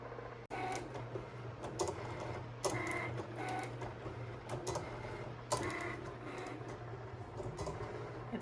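A Cricut cutting machine slices yellow vinyl with a steady low motor hum, punctuated by repeated soft clicks and whirring carriage movements, close by and quiet, with no voices.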